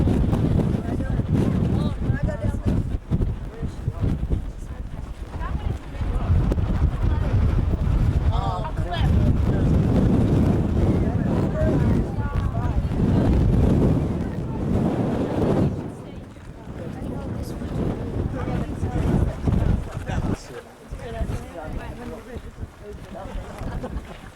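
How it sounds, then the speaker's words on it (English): Strong wind buffets the microphone at a Grand Canyon overlook at sunset, a loud, continuous rumbling roar with gusty swells. Brief lulls come and go, and talk is partly buried beneath it. "Pretty windy up here."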